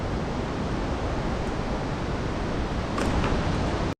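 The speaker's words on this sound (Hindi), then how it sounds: "सामने झरना गिर रहा है" A waterfall pours into a flowing river along a mountain path near a temple, a steady, dense rushing roar heard close and continuous without a break.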